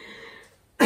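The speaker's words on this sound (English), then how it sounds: "a cough reminded me" A single short cough from someone with a slight cold bursts out near the end, sharp and close, after a moment of quiet room tone.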